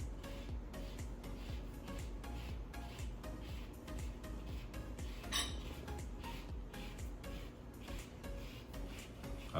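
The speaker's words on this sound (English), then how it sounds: "Zesting this lemon." A lemon is zested against a metal grater in a kitchen, producing a quick series of soft, rhythmic scraping strokes up close, with an occasional light clink of metal.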